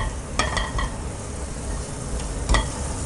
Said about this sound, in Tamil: இது வந்து நெய்யில் ஃப்ரை பண்ணிக்கலாம்